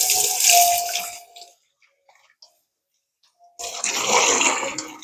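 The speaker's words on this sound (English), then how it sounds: "Rinse my hands again." Hands rinsed under a running kitchen tap: splashing water for about a second and a half, a short quiet gap, then the stream splashing again, close and fairly loud.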